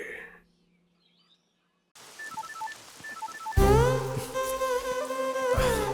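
A mobile phone rings in a Telugu romance-comedy film scene, a bright electronic melodic ringtone that starts suddenly and plays loudly and steadily after a brief patter of soft beeps.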